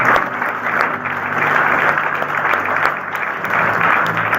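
A church congregation applauding during a sermon, a loud, sustained wash of clapping from many hands that swells and holds steady throughout.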